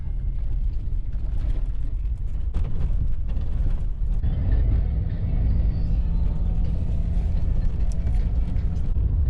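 A car drives along a snowy winter highway through forest in Yakutia, a loud, steady low rumble of engine and tyres heard from inside the cabin, continuous and even, with no speech.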